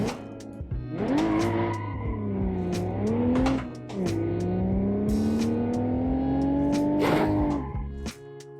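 A video game car drifting with traction control, its engine revving hard in long rising and falling pitch sweeps while the tires squeal, with a short dip in the middle and a sharp skid burst near the end, close and loud.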